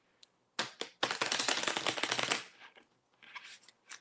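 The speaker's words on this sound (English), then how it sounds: "Let me just shuffle and have the piles ready." Tarot cards are shuffled close up: a few quick taps, then a long, dense riffling burst, followed by scattered lighter card sounds.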